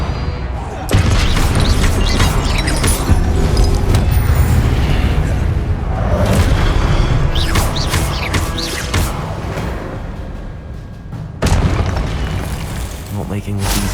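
Repeated Confringo fire-spell blasts in the Hogwarts Legacy video game, loud booming explosions layered over a dense, continuous battle din, with a voice shouting during the fight.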